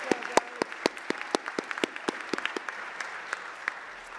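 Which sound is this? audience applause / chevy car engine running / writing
audience applause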